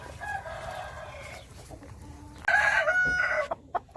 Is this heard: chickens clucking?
yes